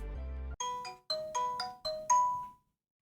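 A phone ringtone plays a bright, chiming melody of a few quick notes after a brief buzzing tone, then stops, leaving silence.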